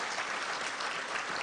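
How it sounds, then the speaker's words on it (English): A crowd at a university event claps in a brief, continuous burst of applause, the dense clapping steady and even from start to finish. "Let's give a better round of applause,"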